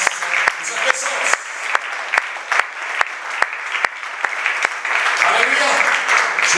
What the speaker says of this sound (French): Et nous acclamons le Seigneur pour cette grâce, pour cette présence.